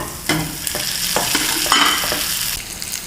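Eggplant pieces sautéing in hot oil, a loud continuous sizzle with scraping stirs and spoon knocks against the pan, close up and with no voices.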